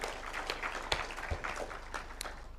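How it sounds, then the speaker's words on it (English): Applause for the Speaker in a Senate chamber, a faint, steady patter of many hands clapping at a distance throughout. "Better applause for the Speaker, please."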